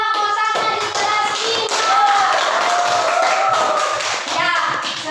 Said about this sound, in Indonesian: Tepuk tangan untuk anak kosaknya di kelas